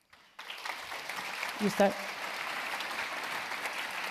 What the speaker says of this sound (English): please join us in giving a big round of applause to our heroes who are joining us here on the stage